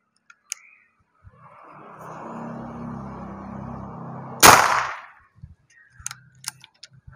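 A single sharp shot from a full-CNC airsoft gun during a test firing cracks after a few seconds of low mechanical whirring, followed by quiet clicks and handling noises.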